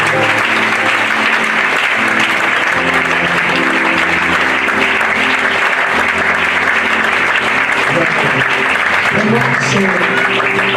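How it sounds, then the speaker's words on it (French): A church congregation applauds and cheers loudly and continuously at a Sunday closing service, a dense wall of clapping with voices mixed in throughout. "Est-ce qu'on peut acclamer le Seigneur pour ça?"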